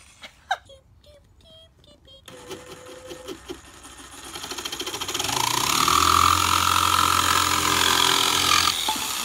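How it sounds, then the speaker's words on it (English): Lightweight variable-speed jigsaw cutting a wooden board for a desk build, a steady buzzing motor rasp that swells loud and continuous for several seconds after a few short quieter bursts, with no talk over it. "So the jigsaws are great to use because they're lightweight and you can adjust the speed and control them really easily."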